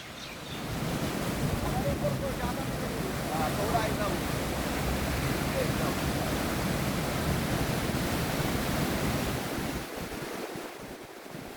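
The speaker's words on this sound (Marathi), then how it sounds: "खडकवासला धरणातून मुठा नदीत पंधरा हजार क्युसेक्सने पाण्याचा विसर्ग सध्या सुरू आहे" The Mutha river in flood below Baba Bhide bridge in Pune, swollen by 15,000 cusecs released from Khadakwasla dam: a loud, continuous roar of rushing water with wind buffeting the microphone, dropping away near the end.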